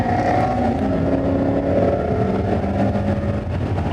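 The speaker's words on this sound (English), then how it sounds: "I feel like the engine is super soft in the Miata" A Mazda Miata ND3 on a race track holds a steady, fairly loud engine drone for the whole stretch, heard from inside the car with road and wind noise, and no talking.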